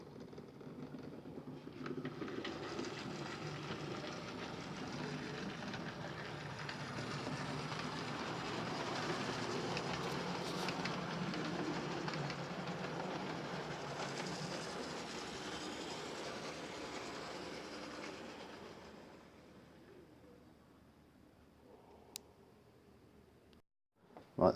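A Class 20 and a Warship diesel locomotive pull away from a station with a train, a low engine rumble building then fading over about twenty seconds, followed by near silence and a brief click.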